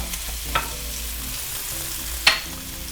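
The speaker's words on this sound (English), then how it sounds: "I'm gonna go ahead and add the onions and the yams. And just by the sound, I know that temperature on that pan was right." Onions and yams sizzling steadily in a hot pan, a close continuous hiss of frying with a couple of sharper crackles and pops.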